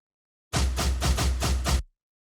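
A drum roll on a steel kit in an afrobeat beat sounds as about six quick, even hits with deep low end, packed into just over a second, standing alone between silences.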